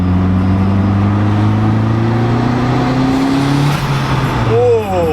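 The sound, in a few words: turbocharged Honda EG car accelerating in a third gear pull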